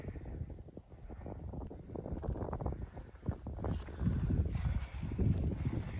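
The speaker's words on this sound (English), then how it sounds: "Wind is definitely picking up." Wind gusts across a mountain ridge in South West Tasmania's Southern Ranges, heard as close, rumbling buffeting that surges and eases in waves, growing stronger toward the end.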